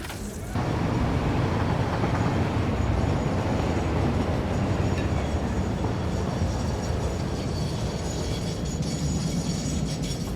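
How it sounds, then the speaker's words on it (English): A freight train rolling along rails in the factory-building game Satisfactory, a dense, continuous rumbling roar that starts abruptly and holds steady at close range for about ten seconds, with no talk over it. "we have a block because that other train is going through to deliver oil"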